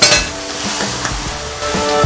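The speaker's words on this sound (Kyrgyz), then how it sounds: "Кайнап аткан шорпого эле кесмебизди мынтип ажыратып салабыз." Noodles are pulled apart and dropped into boiling soup, giving steady bubbling and sizzling with a few soft splashes and clinks of utensils against a pot, close and without talk.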